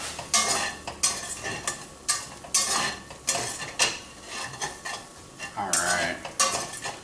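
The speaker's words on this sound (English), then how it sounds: "Blooming your spices, give them some good heat" Spices blooming over high heat in a hot pan for vegetarian dirty rice, a steady close sizzle broken by repeated scraping and clinking stirs at an uneven rhythm, with no voices.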